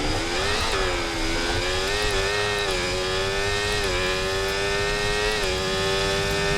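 F1 race car engine from the F1 24 video game, a loud high-pitched whine holding steady revs with brief dips and climbs at gear changes, continuous throughout with other cars faintly behind.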